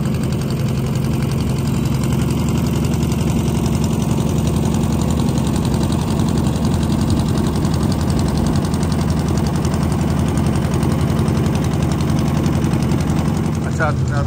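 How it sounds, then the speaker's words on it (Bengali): Boat engine chugging steadily on Ramsagar lake in Dinajpur, Bangladesh, a constant mid-low running drone with a faint knocking pulse, holding level throughout while people talk over it. "রামসাগরের যে আমরা বোটটা চললাম,"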